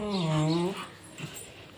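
A dog gives an angry, whining vocalization at small puppies outside, one drawn-out cry lasting under a second, loud and close, followed by quieter background noise.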